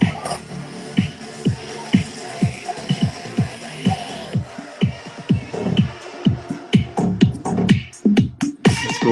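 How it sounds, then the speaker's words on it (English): Vocals run through a vocoder for a robotic, synthetic tone, sung over a steady pulsing beat with regular low thumps, loud and continuous throughout. "I used a vocoder to make it sound robotic"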